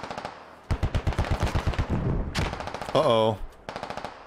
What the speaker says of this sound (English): Rounds flying over.